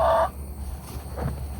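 Chickens at a pumpkin, one short loud cluck at the start followed by softer scattered clucks and pecking sounds nearby.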